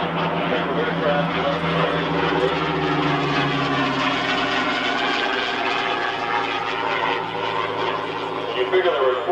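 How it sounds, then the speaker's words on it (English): A Hawker Hurricane propeller fighter roars past at an air show, a loud, sustained engine drone that swells and shifts pitch as it passes, with a commentator talking over it. "Coming in from your left, the Hawker Hurricane."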